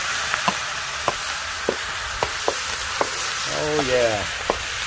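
Peppers and onions coated in olive oil and fajita seasoning hit a smoking Weber cast iron wok over charcoal on a Weber kettle grill, giving a loud, steady sizzle with sharp clicks. A voice speaks briefly.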